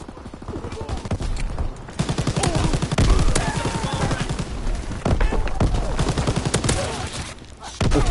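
Rapid bursts of automatic gunfire and single shots crackle loudly and almost continuously through an objective-capture match in a shooter game, with in-game voice callouts and a player talking over the shooting.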